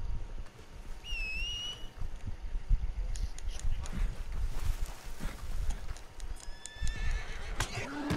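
A horse whinnies with a high, wavering neigh, followed by clip-clopping hooves and another whinny near the end over steady wind-like background noise.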